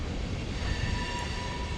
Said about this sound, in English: Oh, there's a train going through there.